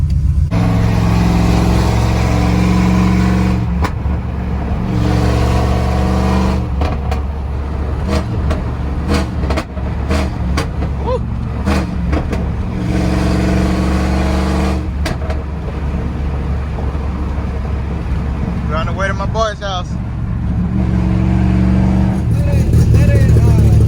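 A Chevrolet Silverado pickup's 4.8 engine rumbles steadily with deep exhaust drone, rising in brief revs, while voices talk over it throughout.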